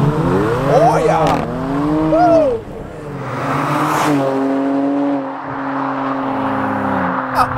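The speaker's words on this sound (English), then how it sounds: "Left foot on the brake, right foot on the gas. And you do a burnout." A 2018 Kia Stinger GT performs a brake-held burnout, its engine revving loudly and steadily with tire squeal mixed in, while people shout and talk excitedly over the noise.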